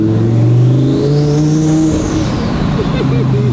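Audi R8 Turbo accelerating hard, its engine revving up loudly and rising in pitch from inside the car, with a turbo whine and people talking over it.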